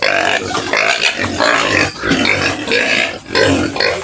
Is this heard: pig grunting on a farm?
yes